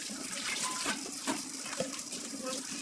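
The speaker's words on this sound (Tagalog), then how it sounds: "lagyan natin ng tubig, tapos i-cooking natin" Water runs steadily into a cooking pot while pork sinigang is being made, giving a continuous close splashing gush with small plops and clinks and no pauses.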